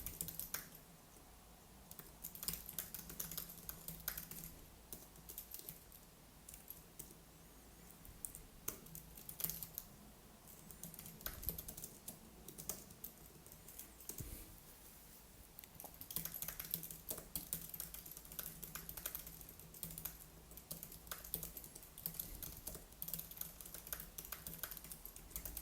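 Continuous keyboard typing while writing SuiteScript code in the WebStorm editor on Linux, a faint, busy patter of key presses in irregular bursts that runs the whole stretch with no talking.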